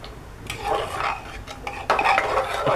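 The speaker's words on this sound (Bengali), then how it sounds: "একটু এইভাবে হালকা করে নেড়ে দেব।" Fish head curry cooked with mixed vegetables, gently stirred in a pot: repeated close scraping and knocking of a utensil against the pot, getting louder toward the end, with a faint sizzle underneath.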